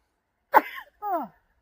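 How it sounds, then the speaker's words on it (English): A single human sneeze in a quiet outdoor allotment, a sharp burst followed by a short voiced tail, close and clear with no other sound around it. "I'm going to sneeze in a minute."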